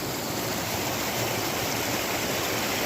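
The Bear River in California rushes steadily near a waterfall in a remote mining area, a loud continuous broadband roar of flowing water with no voices.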